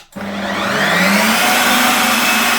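A Ninja CREAMi ice cream maker starts up on its light ice cream program, a loud, steady motorized whir and grind with a slight rising pitch, close and continuous with no talking.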